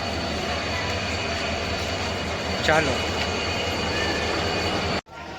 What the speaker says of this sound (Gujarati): આ બોટાદનું રેલવે સ્ટેશન છે આ ગાડીમાં જવાનું છે આપણે